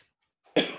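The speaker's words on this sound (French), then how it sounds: "c'est l'encens qui me fait tousser." A single short cough, close and fairly loud, brought on by dragon's blood incense smoke during a tarot reading, preceded by a faint breath.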